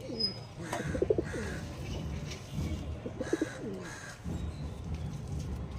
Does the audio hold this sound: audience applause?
no